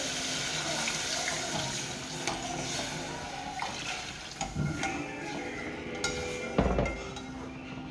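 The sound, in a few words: water pouring into a cooking pot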